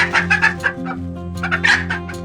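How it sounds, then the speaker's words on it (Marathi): A country-breed hen clucking close by, a run of short throaty calls in two bursts over a steady low hum. "ही कोंबडी आहे"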